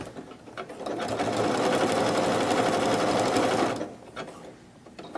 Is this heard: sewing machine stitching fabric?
yes